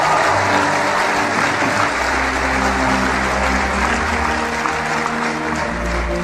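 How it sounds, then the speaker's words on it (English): Loud, sustained audience applause fills a motivational speaking event, dense clapping from a large crowd holding steady throughout with a low rumble beneath. "Give yourselves a round of applause."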